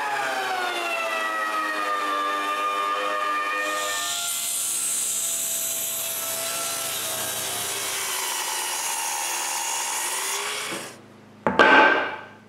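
Wood is cut to prepare a shelf wall support, giving a loud, continuous whining tone that rises and falls over harsh rasping noise. It cuts out near the end, then one short sharp burst follows. Nobody speaks.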